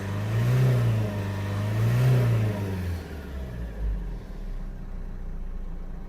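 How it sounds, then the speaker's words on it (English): A Renault Duster 1.5 dCi diesel engine, not fully warmed up and with an injection fault, revs up twice in steady swells, then settles back to a low idling rumble close by. "Let's increase the RPM more and hold it for a moment."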